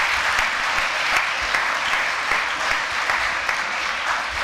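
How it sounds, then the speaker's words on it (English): Sustained applause from a church congregation after an It's a Wonderful Life performance by players, a steady dense wash of clapping holding level throughout. "Please keep your applause going for our players,"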